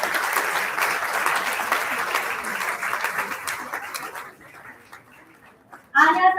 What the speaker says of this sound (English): Good going audience with the applause